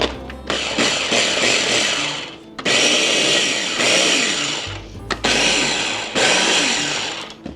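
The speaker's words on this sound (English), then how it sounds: "Now we just going to pulse this together to blend this stuff up." Dry ingredients for a keto coffee cake pulsed in a kitchen blender: three loud whirring bursts of motor noise separated by brief pauses.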